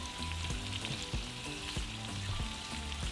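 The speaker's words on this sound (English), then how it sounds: "we're going to fry them for about 1 minute" Tomatoes frying face down in a hot pan for salsa taquera, a steady, close, loud sizzle with crackling and spattering throughout, no voices.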